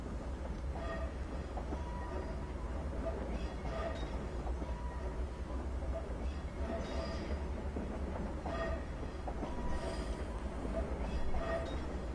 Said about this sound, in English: this train probably stretches across Denmark